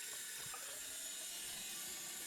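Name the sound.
bathroom basin tap running, water flowing down unblocked drain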